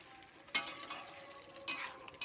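Chicken cooks with spices and tomato for chicken kosha, giving a quiet sizzle under a few bursts of spatula scraping and stirring in the pan.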